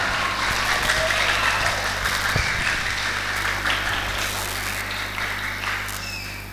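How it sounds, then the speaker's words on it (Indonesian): Applause for a teacher at a school practical-exam performance, a steady crowd of clapping hands that holds fairly even for several seconds and then slowly thins and fades. "Boleh dong kita kasih aplaus yang paling meriah untuk Bu Sondang."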